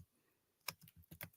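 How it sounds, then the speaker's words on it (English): Slow keystrokes on a computer keyboard, about six separate clicks spaced irregularly after a short quiet stretch, close and fairly quiet with no talking. "Sorry, slow typing."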